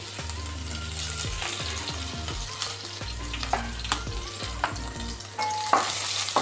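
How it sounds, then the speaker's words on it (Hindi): Cumin, ginger and green chilies frying in a pan, with a steady close sizzle and occasional stirring scrapes throughout, no talking. "अब फ्राई करते हैं।"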